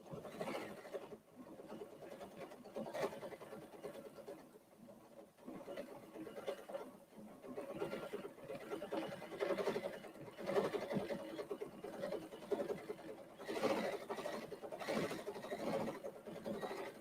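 A Bernina domestic sewing machine with a stitch regulator runs steadily through free-motion quilting and thread painting, giving a continuous close whirring hum with rapid needle patter that rises and falls slightly as the fabric is moved.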